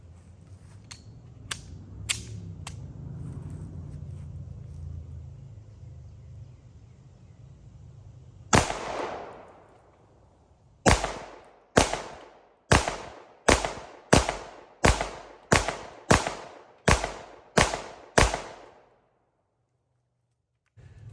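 A Sig 365XL pistol fitted with a True Precision barrel fires at a range: one sharp report, a short pause, then a rapid string of about ten loud, evenly spaced shots, each with a brief echoing tail.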